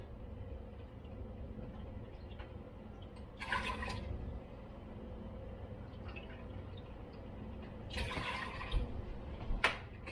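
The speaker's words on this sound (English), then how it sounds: "We're going to put 1 cup of water. And we're going to put 2 cups of vinegar." Water and then vinegar pour into a pot for a pickle brine, with two short splashing pours over a steady low kitchen hum and a few faint drips.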